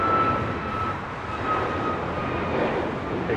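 An Air Tahiti Nui Boeing Dreamliner takes off at LAX with a steady, broad engine roar and a faint whine, continuous and moderately loud throughout.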